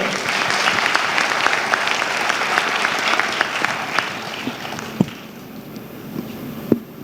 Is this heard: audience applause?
yes